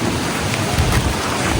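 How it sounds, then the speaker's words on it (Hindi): Heavy rain pours down at a Dussehra fair, a loud dense steady hiss of drops close by with wind, alone with no voices. "बारिश कितना बवाल कर दिया"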